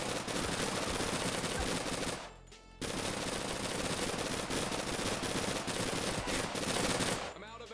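Rapid automatic gunfire in the online zombie survival game Persist Online, sustained loud bursts broken by a short pause midway and cutting off near the end as the ammo runs dry.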